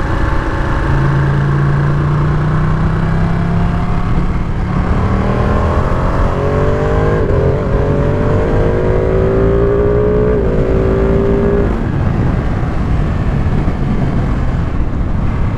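Ducati Panigale V2 motorcycle ridden at speed with the exhaust loud and constant, its engine note rising and falling through the gears over steady wind roar, close up with no talking.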